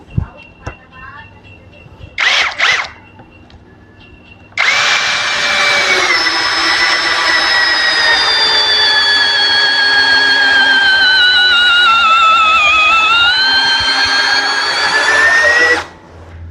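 A Dongcheng DCJZ2060i cordless impact drill in drill mode, speed 1, whines steadily for about ten seconds as it bores a 16 mm hole, its pitch dipping under load near the end, after a few short clicks and bursts.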